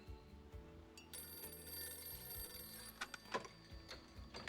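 An old-style telephone bell rings repeatedly at Vinny's, a steady metallic trill standing out over low background hum and room noise, with no talking.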